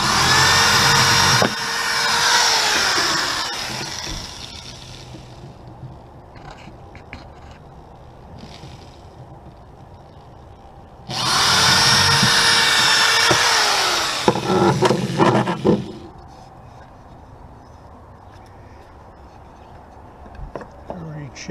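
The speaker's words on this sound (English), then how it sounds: "I drill twice for" A power drill bores mounting holes in a wooden teardrop trailer, two loud whining bursts of a few seconds each separated by a quieter pause, close up and alone.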